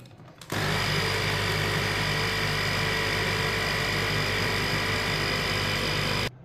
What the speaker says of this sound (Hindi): अब मूंग दाल को अच्छी तरह ग्राइंड कर लेंगे।